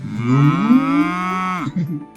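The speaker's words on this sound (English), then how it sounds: "He went past the cows." A cow on a farm gives one long, loud, close moo with a rising then falling pitch, lasting about two seconds, with a short lower grunt at the end and no talk.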